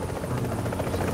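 A helicopter in the video game Tom Clancy's The Division whirs loudly and continuously, its rotor chop close and steady throughout.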